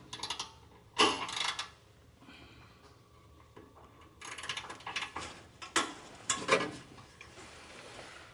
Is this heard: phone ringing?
no